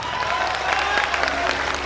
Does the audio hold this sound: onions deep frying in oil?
no